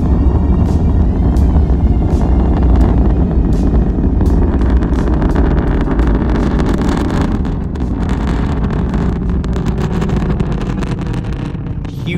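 A SpaceX Crew 7 rocket liftoff thunders as a broad, continuous roar with crackling bursts and heavy wind buffeting, loud throughout and easing slightly at the end.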